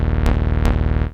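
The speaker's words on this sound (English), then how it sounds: "I wanted it to sound ridiculous without OTT." Dry sawtooth granular synth, buzzy and harmonically dense, with a steady pulsing low end and two sharp bright bursts sweeping through, sounding alone without compression.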